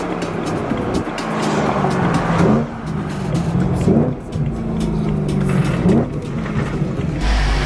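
A BMW E92 M3 engine idles roughly with a faulty fuel breather valve. A loud, close, steady hum wavers and surges every couple of seconds as the revs shift slightly.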